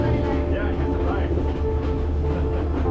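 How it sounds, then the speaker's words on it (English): A passenger train runs on rails during a scenic highland ride from Kandy to Nuwara Eliya in Sri Lanka, giving a steady, loud rumbling roll with a low mechanical drone and faint wheel clatter throughout, with voices faintly mixed in. "a scenic train ride from Kandy to Nuwara Eliya"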